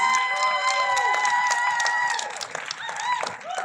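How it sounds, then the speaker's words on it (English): At a valedictory ceremony, an audience cheers and claps for a group of women, with scattered whoops and bright tonal voices over steady applause that eases slightly toward the end. "Can I have a great applause for them, please?"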